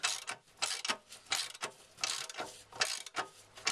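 Ratchet on a 15mm socket tightening rear bumper bolts on a Land Rover Freelander 2, a rhythmic run of close, crisp clicking bursts in repeated winding strokes with no talking.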